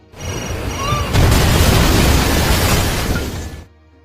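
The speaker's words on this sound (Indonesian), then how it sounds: "Ketika Riley sudah pergi cukup jauh, ia pun segera meledakkan rumah tersebut" A bomb blast destroys a house in the action film Peppermint, a massive roaring explosion swelling in quickly and rumbling loudly for several seconds before cutting off abruptly to near silence.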